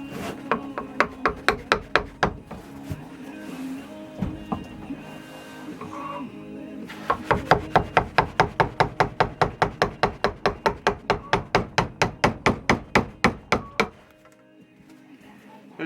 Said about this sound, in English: So I'm just going to use the chisel to take off some of the bigger pieces